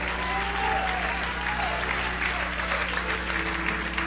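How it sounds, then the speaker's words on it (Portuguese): A church audience at a sermon breaks into sustained applause, a thick, steady roar of many clapping hands over a low electrical hum, with faint voices mixed into the crowd. "Isso merece uma salva de palmas maior,"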